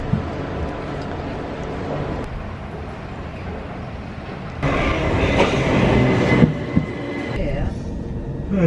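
Inside a moving passenger train, a steady rumbling rattle of wheels and carriage runs throughout and grows louder and rougher midway, with faint voices underneath.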